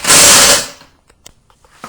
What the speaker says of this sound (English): Once you get those twisted on, snug them up with the impact